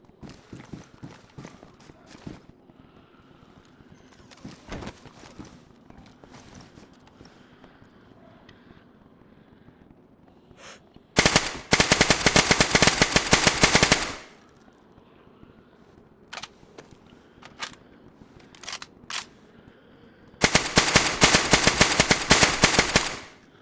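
Two long bursts of rapid automatic gunfire from the DayZ video game on PS5, fired during a base raid. Each loud, dense burst lasts a few seconds, set apart by quieter stretches with scattered single shots and faint movement.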